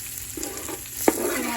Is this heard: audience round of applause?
no